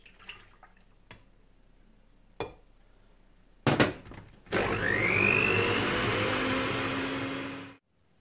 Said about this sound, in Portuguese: vamos pegar com a ajuda de uma batedeira e vamos bater as natas em castelo